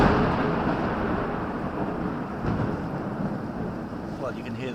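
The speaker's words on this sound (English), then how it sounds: "you can hear the thunder's definitely still there" Low thunder rumbles steadily through a nighttime storm in Pinnawala, Sri Lanka, a continuous broad roar with heavy rain hiss beneath it and a faint swell midway.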